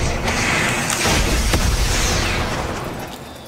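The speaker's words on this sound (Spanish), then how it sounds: "escucho disparos cuando bajo" Rapid gunfire and explosive bursts from a Fortnite match, loud and dense, with several sharp cracks standing out over a continuous rumbling battle din.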